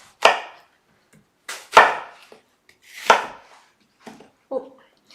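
A chef's knife chops an apple on a cutting board in five sharp, separate strikes spaced about a second apart, each close and crisp with a quick decay and near silence between them.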